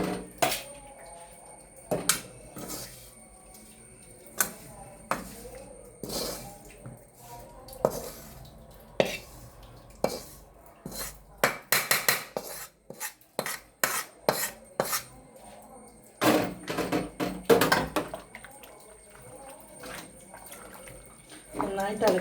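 Masala powders stirred into curry in a pan, with repeated scraping and clinking of a spoon against the metal coming in irregular bursts, growing busier toward the end, while a person talks throughout.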